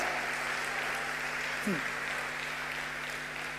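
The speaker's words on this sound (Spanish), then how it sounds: "Dale un aplauso" A church audience claps steadily through a sermon on prophetic life, broad even applause with a short vocal exclamation rising briefly in the middle.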